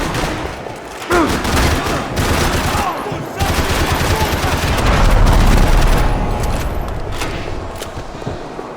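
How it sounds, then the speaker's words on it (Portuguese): Dense gunfire in the Max Payne 3 video game rattles almost continuously in loud, close bursts, with brief gaps between volleys and some voices underneath. "Tô atirando pra te dar cobertura!"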